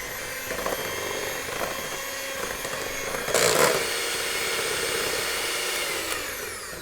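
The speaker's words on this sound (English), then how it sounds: "I'm actually going to use the electric whisk" An electric whisk beats icing sugar into a creamy mix, giving a continuous close mechanical whir with a brief louder surge midway.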